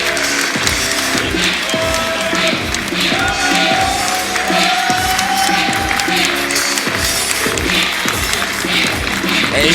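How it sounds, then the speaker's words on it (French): An audience at a French women's wrestling show applauds and claps rhythmically, with crowd noise and some voices mixed in, loud and sustained throughout. "Et JGU qui est rentré sous les huées du public et qui repart sous les applaudissements de son adversaire et du public."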